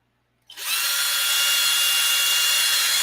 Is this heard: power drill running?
yes